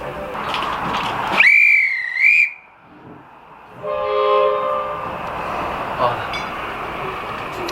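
A Mornington Tourist Railway train sounds a bright whistle, then a steady horn tone, as it starts moving off with a constant rumble underneath and a voice speaking nearby.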